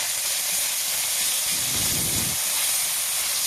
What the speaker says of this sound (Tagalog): kailangan natin igisa dito yung ating minced pork sa luya